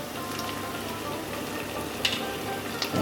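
Spice paste crackles and sizzles in hot mustard oil for a potoler dorma with prawns, a steady close frying hiss with a couple of brief sharper pops and no voices.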